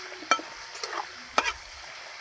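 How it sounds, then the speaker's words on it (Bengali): Potato French fries frying over a low flame as a utensil turns them, with a few brief scraping taps over a steady soft sizzle. "নাড়াচাড়া করে ভালো করে অল্প আঁচে ভাজতে হবে।"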